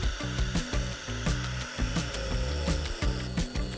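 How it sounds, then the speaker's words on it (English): An angle grinder fitted with a large-toothed carving wheel cuts into wood, a loud, steady high-speed whine broken by rhythmic rasping bites and chatter as the teeth catch the grain, with no talk. "this carving wheel spins really fast in the angle grinder, and it's got big teeth that like to really catch the wood"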